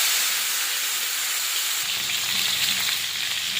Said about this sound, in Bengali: ফোড়নে দিয়ে দেব কালো জিরে, কেটে রাখা কাঁচা কলা আলু